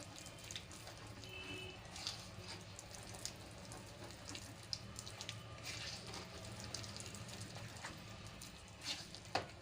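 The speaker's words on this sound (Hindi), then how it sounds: "थोड़ा सा पानी और डाल देंगे।" A faint, steady trickle of water splashing into a bowl of potato, gram flour and semolina pancake batter, soft and continuous with light patter throughout.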